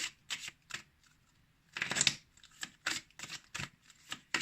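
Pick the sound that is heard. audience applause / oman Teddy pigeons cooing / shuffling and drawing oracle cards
shuffling and drawing oracle cards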